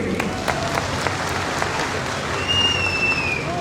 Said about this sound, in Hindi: सब बनना चाहते हैं, तालियां जोड़े सबके लिए।